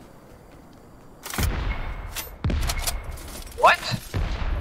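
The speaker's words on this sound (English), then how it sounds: "My proximity mines exploded in the slurp juice." Proximity mines exploding in Fortnite near a slurp juice, a series of loud booming blasts in quick succession with crackling debris, while a player reacts in a surprised voice.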